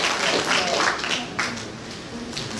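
A panel-discussion audience at Fashion Week Brooklyn 2019 gives a brief round of clapping, a dense patter that swells and then eases off over a few seconds.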